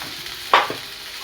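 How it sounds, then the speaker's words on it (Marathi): Sabudana khichdi with crushed peanuts stirred in a pan: a single quick spoon scrape halfway through over a soft background hiss, brief and close, no talking. "आता याला छान असं मिक्स करून घेते।"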